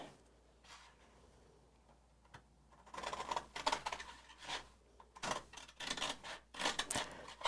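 Scissors trim the edges of cardboard packaging from a Zentangle project pack, giving a quiet start that turns into a run of crisp, close snips and cuts with no talking.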